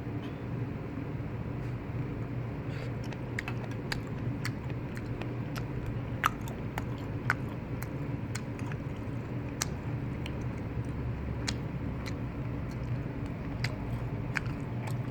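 Someone chews a stir-fried shrimp side dish at lunch in an office, with soft, close crunching and clicking bites over a low constant background hum.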